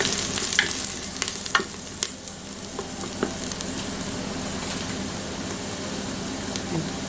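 Onions frying until golden in a pan for a vegetable goulash, a steady sizzle with occasional stirring scrapes, close and continuous with no talking.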